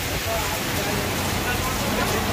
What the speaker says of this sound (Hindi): बहुत तेज बारिश लगी।